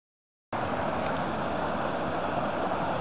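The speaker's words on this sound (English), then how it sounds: "the water is higher and makes quite some noise" Steady broadband rush of flowing water starts abruptly and continues loud and constant, like a swollen river close by.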